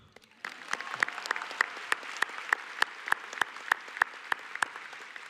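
A graduation audience at a high school commencement ceremony claps together in sustained, dense applause that starts suddenly and stays steady, heard from within the hall.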